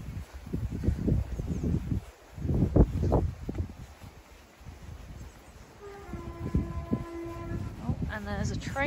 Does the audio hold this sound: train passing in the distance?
yes